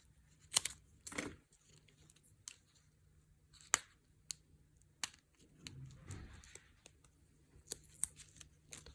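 Scissors snip through cardstock while a fairy greeting card is being made, giving a few separate close crisp cuts with quiet pauses between them and no talking.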